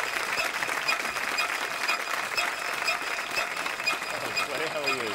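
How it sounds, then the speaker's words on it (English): A studio audience at a comedy show applauds steadily, a dense continuous wash of clapping with crowd noise and a voice speaking faintly underneath. "Please applaud Clair."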